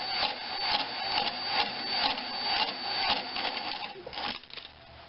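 A bent flex hone works inside the cylinder of a Tecumseh 5.5 hp small engine, making a steady, close, rhythmic metallic grinding and rasping that pulses with each stroke, with no talk.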